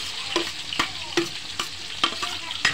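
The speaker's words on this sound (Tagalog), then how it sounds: "Saute until mag-evaporate yung aroma ng spices natin." Garlic, the white parts of spring onion and ginger sauté in a pan for an octopus and patola dish, a steady sizzle broken by about six sharp scraping stirs at a regular pace, close and clear with no talking.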